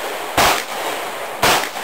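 Two sharp, loud rifle shots from a CZ 858 tactical rifle, about a second apart, each a hard close crack with a short tail and nothing else in between.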